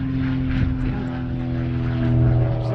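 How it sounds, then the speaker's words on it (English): A propeller airplane drones overhead during a mountain hike on Mount Monroe, a steady, loud buzzing hum that swells slightly as it passes, with no one talking. "There's an airplane right overhead."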